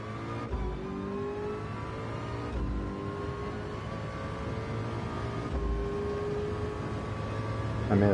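A Ferrari engine revs in a racing game, a steady high-pitched whine climbing and holding with several brief dips at gear changes, loud and continuous throughout.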